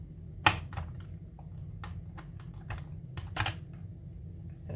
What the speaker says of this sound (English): We're going to go ahead and take the power supply out, which literally you just pull up on it.